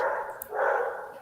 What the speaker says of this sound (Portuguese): Peço desculpas pelo meu cachorro.